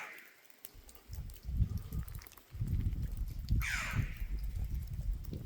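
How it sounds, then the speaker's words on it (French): Bird cawing high in the High Atlas mountains of Morocco, harsh repeated calls echoing off the slopes over wind and shuffling noise outdoors, with no talking. "J'arrive pas à savoir où est l'oiseau."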